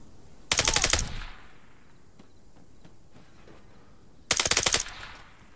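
Two loud bursts of rapid automatic gunfire in the video game Arma 3, each about half a second long, with quiet ambient game noise and faint clicks between them.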